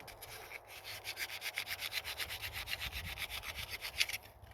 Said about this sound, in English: This sandpaper don't work worth crap